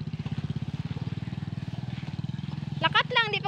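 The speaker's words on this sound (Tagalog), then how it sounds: "Ay, may motor!" A motorcycle putters close by with a rapid, regular engine pulse that holds steady for a few seconds, then voices break in over it as it goes past.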